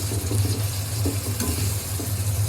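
Tomato frying in a pan with oil, a steady close sizzle with soft stirring scrapes and bubbling throughout.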